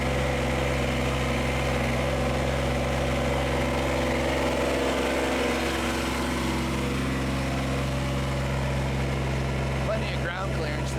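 The Johnny Plow Sr. engine idles in a steady, close, continuous drone with a low hum, holding an even level throughout with a slight rattle near the end.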